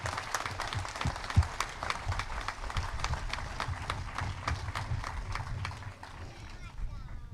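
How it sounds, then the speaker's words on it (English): A crowd at an outdoor memorial ceremony for first responders and veterans in Hemlock, New York, claps steadily for a family, a dense round of applause that holds for several seconds and then tapers off. "I want us to give the Koch family a round of applause"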